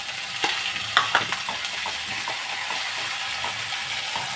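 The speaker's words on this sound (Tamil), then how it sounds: "வெங்காயம், கருவேப்பிலை நல்லா வதக்கி விட்டுக்கலாங்க" Onions and curry leaves sautéing in a pan sizzle steadily as a hiss, with a few soft scraping stirs and light pops close by and no talking.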